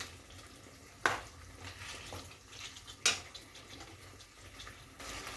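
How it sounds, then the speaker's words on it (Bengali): Spice paste with chicken and potato sautés in a pan over a low, continuous frying crackle, while a spatula scrapes and strikes the pan sharply twice, close by and without speech. "এবারে আমি মশলাটাকে ভালো করে কষিয়ে নিচ্ছি"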